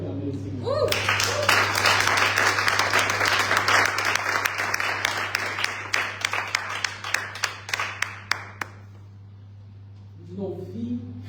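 A church congregation bursts into sustained applause, loud and dense at first, then thinning into scattered individual claps before fading out, with a steady low hum running underneath throughout.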